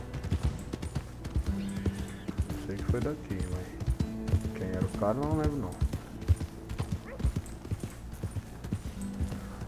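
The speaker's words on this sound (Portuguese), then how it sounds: "Esse aqui é um cavalo temporário, não é meu ainda." Horse hooves clip-clopping in Red Dead Redemption 2 while a borrowed horse is led along, a steady rhythmic patter running under continuous talk from someone speaking Portuguese.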